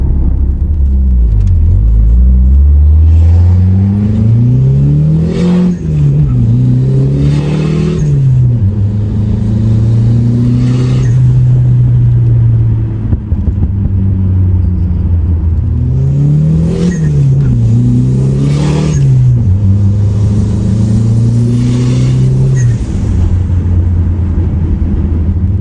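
A boosted Fox Body Mustang engine revs hard and loud in repeated rising and falling pulls, two similar cycles of climbing revs with a deep rumbling idle between them, and no speech.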